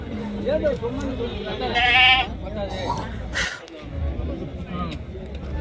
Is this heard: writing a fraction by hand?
no